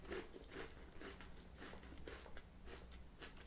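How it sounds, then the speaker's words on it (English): A Nestlé Butterfinger chocolate bar with a soft honeycomb centre gets bitten and chewed, giving a steady run of faint, close crunches at a regular rhythm, with no speech. "Still crunchy though, but it's just very soft to bite."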